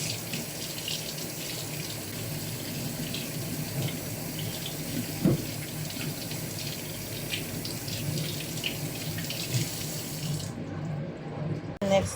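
Tap water runs steadily into a sink as sticky rice is washed for a pumpkin dish, a continuous close splashing hiss with one brief clatter midway.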